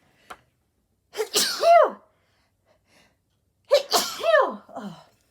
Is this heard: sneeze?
yes